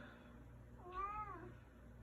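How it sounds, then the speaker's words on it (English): A house cat gives a single soft, rising-then-falling meow, faint and brief, against a quiet indoor background with no talking. "I have a cat and clearly he's interested in the video."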